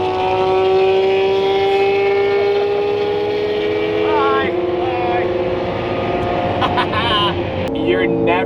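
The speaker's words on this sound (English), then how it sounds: "Either A, the Aventador will start up, or B, it won't start up." A Lamborghini Aventador engine runs with a loud, steady droning hum close by, holding an even pitch through the whole stretch while people talk over it.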